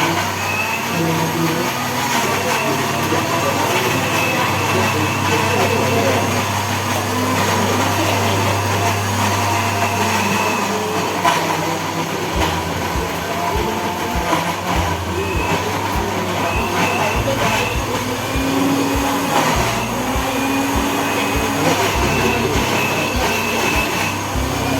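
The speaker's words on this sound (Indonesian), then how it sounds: "Lalu di blender." An electric blender grinds fish in a loud, continuous motor whine that shifts pitch partway through as the load changes, running steadily for about 25 seconds during a village cooking demonstration.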